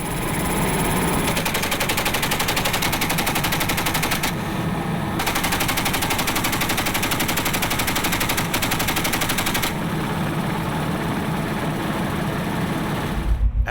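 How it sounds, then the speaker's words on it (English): Ship-mounted machine guns firing warning shots and then concentrated bursts at sea, loud rapid sustained rattling fire in long runs with brief pauses between bursts, close and dominating the whole clip. "the gunners fire a series of warning shots and concentrated fire."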